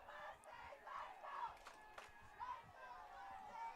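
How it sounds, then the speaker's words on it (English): North High Mustang fans cheer and shout in the stands at a Friday night high school football game against the Camelback Spartans, a faint, distant crowd roar rising and falling in waves. "The Mustang faithful cheering their hearts out for North High School"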